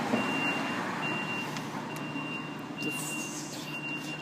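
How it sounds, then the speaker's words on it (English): Truck reversing alarm beeping steadily in a regular repeating rhythm, faint and somewhat distant over a low background rumble, with no talk during the beeps. "reversing on that truck, not loud, is it?"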